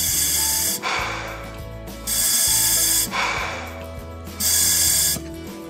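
A vintage double hose scuba regulator with the air turned on breathes in a steady cycle: three long, loud hissing inhalations alternating with quieter bubbling, rumbling exhalations, close to the microphone.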